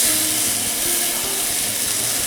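Steaks sizzle loudly in a hot pan, a dense steady hiss that holds even and unbroken throughout with no talk over it.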